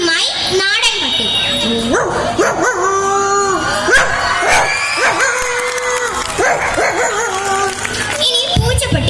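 A human voice mimics a native street dog, giving a run of barks, howls and whimpers in quick, pitch-sliding bursts, loud and close throughout.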